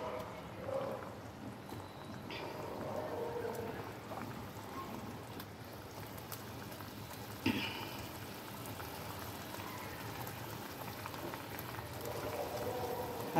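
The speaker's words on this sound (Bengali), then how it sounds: "বেলে মাছ খুব নরম, তো বেশিক্ষণ লাগবে না ফুটতে।" A fish curry with bele fish bubbles in a pan, a continuous soft simmering and sputtering with a few small pops, close and low in level.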